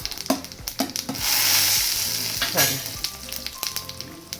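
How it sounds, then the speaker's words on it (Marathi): Mustard seeds fry and crackle in hot oil in a pan, a dense sizzle swelling in the middle with sharp pops and clicks scattered across it, close and fairly loud, no talking. "टाकलं राई पण कडकड आवाज येतो, ते बघा"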